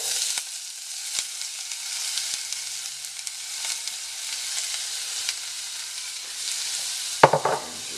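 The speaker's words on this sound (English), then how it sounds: "start with a little bit of olive oil, not too much, and go in with your onion and your garlic" Onion and garlic fry in a little olive oil for a smoky BBQ sauce, a soft, airy hiss of sizzling that runs throughout, ending with a sharp clatter of stirring near the close.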